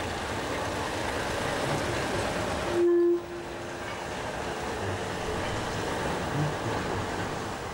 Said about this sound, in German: Zwei Gleise weiter dieselt 199-015, eine V10C aus dem Baujahr